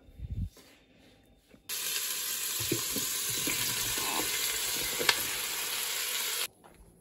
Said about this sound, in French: je vais faire revenir un petit peu les oignons